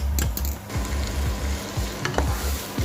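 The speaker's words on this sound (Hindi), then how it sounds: "साथ ही हमने खोए को अच्छी तरह से भून लिए, देख सकते हैं वो उसने घी छोड़ना शुरू कर दी है।" Khoya, milk solids, roasting in ghee as it is stirred, with a continuous sizzle under rhythmic scraping strokes of a spoon against the pan, close and without talk.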